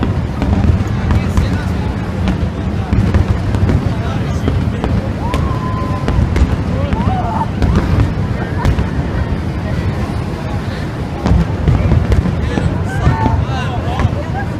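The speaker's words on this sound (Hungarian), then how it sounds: "lőtték fel a hajókról, az operaházról, mindenhonnan a tűzijátékot" Bursts of fireworks launched from boats and the Opera House in Sydney echo in the open air, booming and crackling repeatedly over steady crowd noise and wind buffeting.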